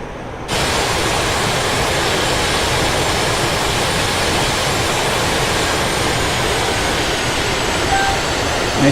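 Su-25 Frogfoot jet in the DCS flight simulator taxiing toward runway 26, a steady loud turbine roar that starts abruptly and holds constant throughout, with no talk.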